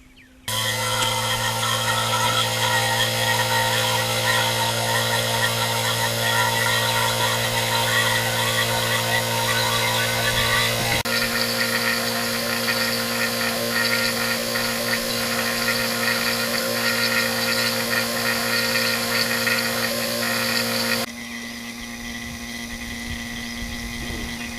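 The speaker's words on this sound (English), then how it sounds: "once I turn this pump on, the system's going to be vacuumed out for 30 minutes before Freon's shot into the system" A vacuum pump runs steadily while evacuating an automotive air conditioning system, a loud continuous motor hum and whine with a shift in tone partway through and a drop in level near the end.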